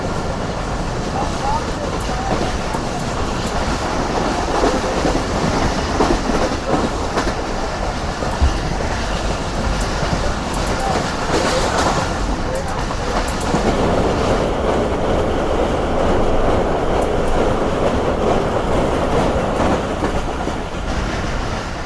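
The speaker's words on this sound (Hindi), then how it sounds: "कारखाना रेलवे स्टेशन को स्किप किया है ट्रेन ने काफ़ी अच्छी स्पीड में।" The Karakoram Express runs at good speed past a station in Pakistan, with a loud, steady roar of wheels on rails and rhythmic clickety-clack throughout, plus brief louder swells.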